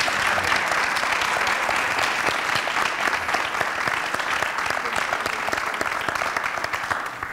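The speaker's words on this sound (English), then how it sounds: "If we can just give them a round of applause" An audience gives a sustained round of applause for guests at a barbershop-themed event. Steady crisp clapping from many hands holds throughout, fading only slightly toward the end.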